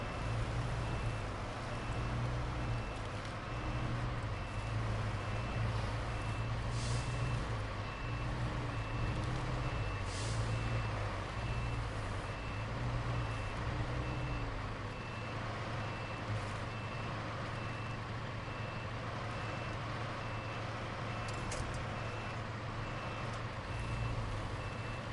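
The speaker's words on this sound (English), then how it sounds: "You got your reverse beeper going off." Truck reversing beeper in the SnowRunner driving game, a steady repeating electronic beep over a constant low engine drone and road noise, running throughout without talk.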